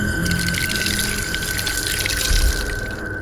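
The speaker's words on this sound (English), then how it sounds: "A funeral washing ritual was performed, during which coconut water was poured over his face." Coconut water poured over a face during a funeral washing ritual, heard as a steady, close rush of splashing liquid that runs unbroken for a few seconds.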